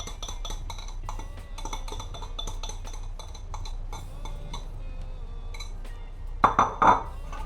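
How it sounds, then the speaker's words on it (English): A utensil scrapes leftover cream cheese from a bowl in a kitchen, a series of quick scratchy strokes and light clinks against the dish, close and fairly quiet, ending with a few sharper knocks. "I'm going to scrape the rest of my cream cheese"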